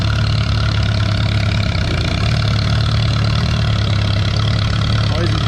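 A pulling tractor's engine roars loudly and continuously at a tractor pull event on a slippery sponge track, a dense steady drone with low rumble and no break.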